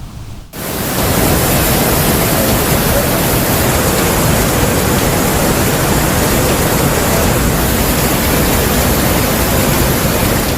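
Ciliwung river surging through the Katulampa weir in Bogor at high flow, a loud, dense, unbroken roar of rushing water that holds steady throughout after a brief quiet start.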